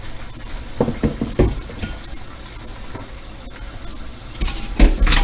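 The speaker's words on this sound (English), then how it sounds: "We're going to go ahead and drain it out in the sink. I always like to run some water when I do this." Tap water running into a kitchen sink while food is drained, a steady splashing rush with irregular louder bursts and clatters, close by and with no talk.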